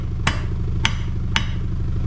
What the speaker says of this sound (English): So then nice big heavy hammer, so this is a copper hide number 3 Thor